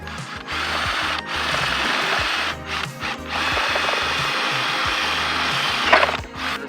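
A power drill bores through the top side of a pipe in a workshop, its motor whining steadily and close, with brief pauses and a couple of short stops before it resumes.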